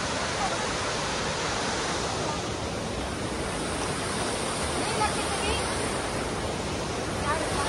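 A river in Dirang, Arunachal Pradesh, swollen and muddy after rain, rushes in a steady, loud, broadband roar that holds unbroken throughout, with no voices over it.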